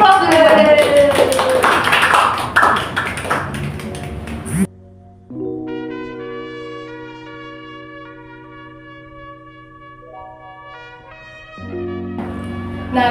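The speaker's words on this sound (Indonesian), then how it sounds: "Aplaus dulu." Audience applause at a talk show, a dense wash of clapping for several seconds with some voices mixed in, then cut off and followed by sustained tonal music.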